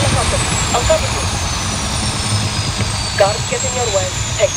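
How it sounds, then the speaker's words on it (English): Helicopters sent in by the enemy during a stealth mission in Call of Duty Modern Warfare, heard as a loud, steady rotor and engine drone with a slowly falling whine, continuous throughout with game effects and voices over it. "Barkov is sending in helicopters."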